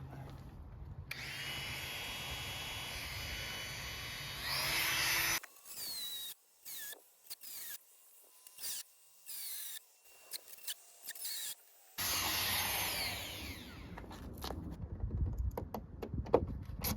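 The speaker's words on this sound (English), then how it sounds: "Try it with the Dremel first, otherwise I can get out the bigger grinder if I have to." A Dremel cutting a stripped bolt head on a 1991 Lotus Esprit: a high-pitched whine running steadily, then broken into short bursts and stops, before resuming in a sustained grind close by.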